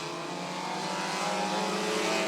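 A field of race cars roars off the start together at Rockford Speedway, a dense, steady engine drone that swells slightly louder over a couple of seconds with no voices.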